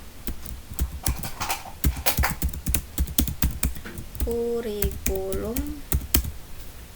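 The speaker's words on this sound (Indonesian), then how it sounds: "lalu kita ketikkan pengembangan kurikulum" A search query typed on a computer keyboard, with rapid, uneven key clicks near the microphone and someone talking over them.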